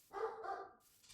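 Dogs barking somewhere in the house, heard here as one short, faint bark from a distance.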